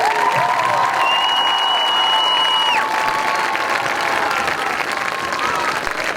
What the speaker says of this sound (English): a great big round of applause for our seniors and their families